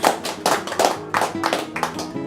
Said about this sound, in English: Can you give a lovely round of applause to Lee for 11 points?